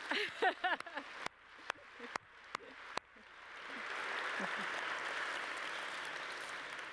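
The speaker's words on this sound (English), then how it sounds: "You can clap." Scattered single claps and a voice come first, then applause from a lunch audience builds into a steady, moderately loud wash that continues to the end.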